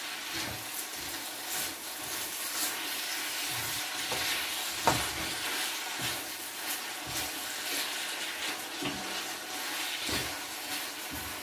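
Noodles, pork and vegetables stir-fry in a pan with a steady, moderate sizzle, punctuated by scraping and clinking stirring strokes throughout.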